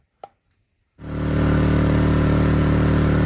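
A Konner&Sohnen KS 3000i S inverter generator, freshly filled with oil, starts after a brief click and then runs at a steady, loud, even hum with a dense engine drone, with no voices over it.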